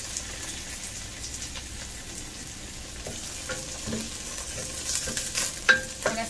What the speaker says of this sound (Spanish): Hay que moverle, moverle, porque como ven que los chiles se pueden quemar.